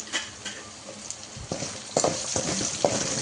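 Vegetables for upma frying in a pan, a soft background sizzle broken by a few sharp scraping and tapping stirs near the end, close and moderate in volume, no talking.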